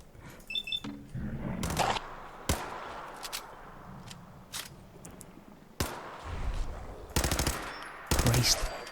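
Pistol gunfire in Fallout 4, sharp single shots fired at irregular intervals with short gaps of ambient game noise between, some shots quick in succession and mixed with other game effects.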